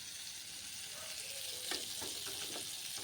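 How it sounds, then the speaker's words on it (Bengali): Shrimp fry in a pan over low gas for shrimp bhorta, giving a steady, even sizzle with faint stirring clicks throughout. "এবার গ্যাস কম করে চিংড়িটা ভালো করে ভেজে নিব।"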